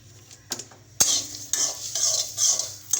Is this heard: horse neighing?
no